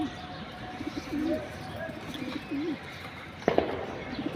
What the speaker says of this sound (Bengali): দেখার মতো কবুতর, দেখার মতো টপ কোয়ালিটি।